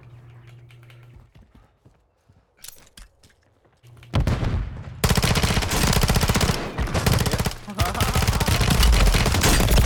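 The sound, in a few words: gunfire in a video game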